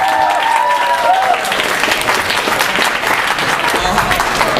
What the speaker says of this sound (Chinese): 那我们热烈掌声，谢谢宅虎队大爷给我们的演出